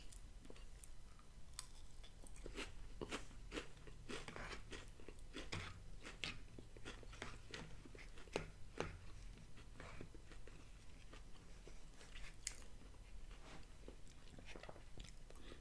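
Kellogg Special K Strawberry Creme Protein Zero Sugar cereal is crunched and chewed in quiet, close-up bites, a steady run of crisp crackling bursts at an intimate, soft level.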